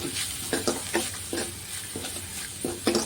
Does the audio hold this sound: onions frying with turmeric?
yes